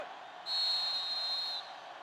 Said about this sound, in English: And the whistle will blow this one dead.